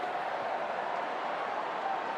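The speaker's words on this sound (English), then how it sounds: "The crowd are chanting." A large football crowd at an AFL match between Fremantle and Collingwood roars and chants as one broad, steady wash of distant voices, continuous and fairly loud.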